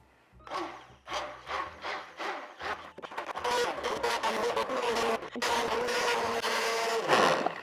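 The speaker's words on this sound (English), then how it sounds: "All right, so now we're just gonna blend it up." An immersion blender pulses in short bursts, then whirs steadily while blending potato and leek soup, the motor pitch shifting as it works through the thick mixture.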